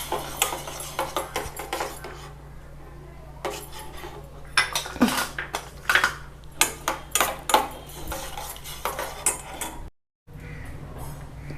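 A metal kadai is set down on a stove amid a run of clattering pots, pans and cutlery, sharp knocks and rattles near the microphone, ending in a brief silence and then a soft hum.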